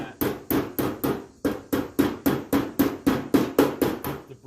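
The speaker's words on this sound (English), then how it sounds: "So I'm just using the hammer as a dolly, basically, to bring" A hammer held as a dolly on car door body metal during rust repair gives about fifteen sharp, ringing metallic strikes in a steady, even rhythm, close and loud, with no talk.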